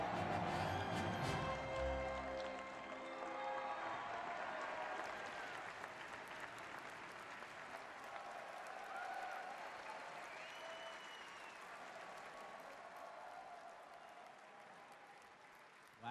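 A large audience at the Star Wars Celebration fan convention applauds and cheers loudly and steadily, a dense wash of clapping and whoops that carries on throughout without letting up.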